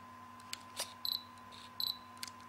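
The autofocus motor of a Tokina 10-17mm fisheye lens whirs in short, quiet bursts several times, with small clicks and a faint electronic tone from the camera in between.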